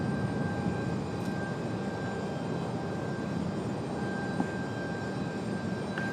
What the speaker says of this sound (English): Southwest 2204 Tower, fly runway heading, runway 23 left, clear for takeoff.